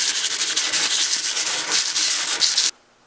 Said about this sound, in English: So I got to keep on sanding maybe another half hour or so.